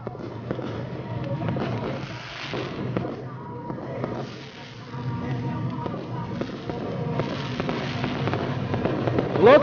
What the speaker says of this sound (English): Fireworks going off for the infield.